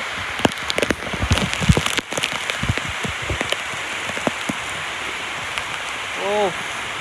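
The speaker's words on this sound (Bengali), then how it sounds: "বৃষ্টি অনেক জোর আসছে, এখন ভিজবো।" Heavy rain pours steadily across a village yard, a dense continuous hiss of drops on surfaces, with a few short voice sounds and sharp splashes breaking through near the start.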